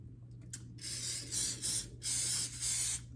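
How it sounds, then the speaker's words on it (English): Several short bursts of aerosol coconut oil cooking spray hissing onto a baking pan, close up, separated by brief pauses, with a faint low hum underneath. "It is a coconut oil spray"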